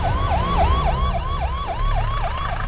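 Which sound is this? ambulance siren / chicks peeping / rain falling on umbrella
ambulance siren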